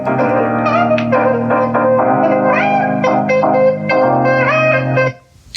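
An alarm clock going off with a bright melodic song, playing loud and continuous for several seconds, then cutting out abruptly near the end.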